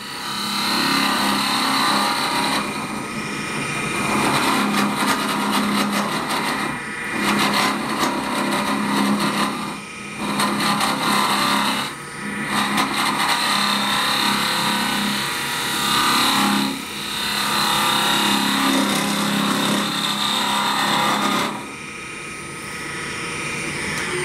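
A wood lathe runs steadily and loudly while a tool hollows out a large wooden globe Christmas ornament, the cutting noise continuous with brief dips as the tool lifts away from the wood.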